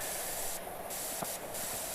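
A pressure washer in PowerWash Simulator 2 hisses in a constant close spray while cleaning a tree, with brief bursts of brighter jet noise cutting in and out.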